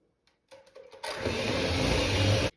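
An electric mixer creams ingredients for ice cream cupcakes. After a few light clatters it whirs to life abruptly, a loud, steady, close motor drone that holds for about a second and a half and then cuts off.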